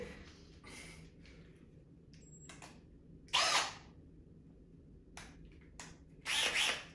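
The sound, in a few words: small cordless drill running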